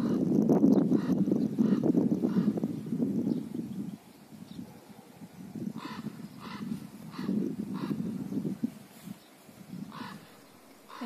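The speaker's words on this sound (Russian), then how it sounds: "Это ветер так сильно шумит." Strong wind roars and buffets the microphone in heavy low gusts, loudest at first, then easing and surging again in waves with no talking.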